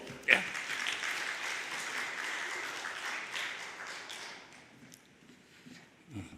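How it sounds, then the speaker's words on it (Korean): An audience claps to welcome a pastor at a church gathering, a moderate round of many hands after one sharp opening clap, fading out around five seconds with a faint voice near the end. "우리 박수로 환영하죠."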